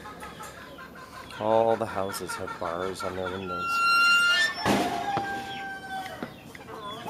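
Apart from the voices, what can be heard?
chickens clucking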